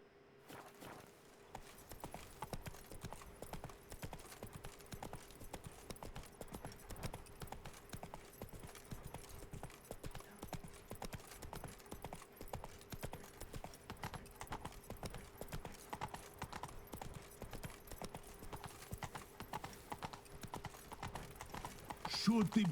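Roach the horse's hooves clip-clopping in The Witcher 3, a steady fast trot of regular hoofbeats throughout, with a low game hum and a voice speaking over it.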